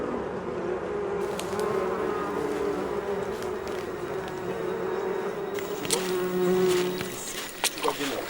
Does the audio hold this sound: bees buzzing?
yes